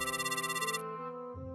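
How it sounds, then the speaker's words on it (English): A house telephone rings indoors with a loud, bright electronic ringtone, one continuous burst of harmonic tones that shift in pitch, heard clearly and alone. "that's the house phone."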